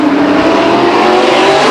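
Grand American Modified race cars roaring around Stockton 99 Speedway, a loud continuous engine drone close by with no break.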